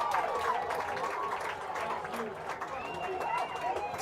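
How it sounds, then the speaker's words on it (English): A Cardinal football crowd at the Pratt vs Cheney game cheers loudly and steadily, a dense roar of voices with scattered shouts and whistles that holds for several seconds. "The Cardinal crowd is going crazy."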